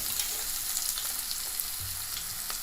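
Onion frying in hot oil for a Marathi vegetable dish, a steady close sizzle with soft crackles and the occasional stir, no voices.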